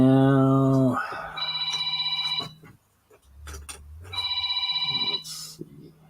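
A phone rings from another room in two separate bursts of trilling, bell-like tones with a short gap between them, and a voice is briefly heard at the start.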